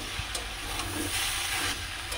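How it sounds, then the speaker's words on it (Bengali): Chopped tomato fries in a hot pan for a homemade mixed-vegetable dish, giving a steady close sizzle and hiss with small crackles across the short stretch, and no voices. "দিয়ে একটু ভাজা ভাজা হোক"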